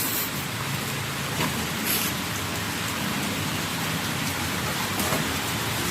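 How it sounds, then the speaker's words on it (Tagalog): Steady rain falling and pattering on surfaces at a cemetery, a dense continuous hiss that stays loud and even throughout, with no talking. "Ano ba naulan?"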